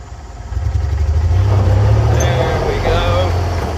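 A golf cart's small engine sputters and catches, then runs with a steady low rumble close by.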